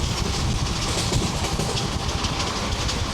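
A passenger train on the Pondicherry to Vijayawada route, running late after an engine issue, rolls along the rails with a steady, loud, close rumble and a dense wash of wheel and carriage noise throughout.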